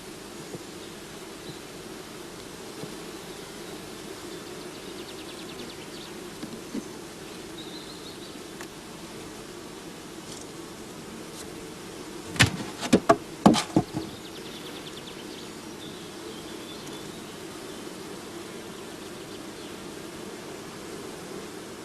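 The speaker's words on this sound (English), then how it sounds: "Shaken or brushed into the funnel, the bees fall into the swarm box underneath" Honey bees tumble from shaken or brushed combs through a funnel into a swarm box, a steady soft buzzing hum of many insects with a short burst of louder knocks and rustles near the middle, no voices.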